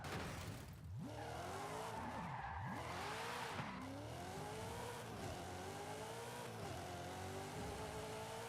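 A car in Forza Horizon 5 skids with its brakes locked, tires squealing in long sliding tones over a steady, loud engine note that swoops up and down throughout.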